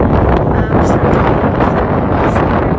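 Loud, continuous wind buffeting the microphone, a heavy rumbling roar with gusty surges throughout.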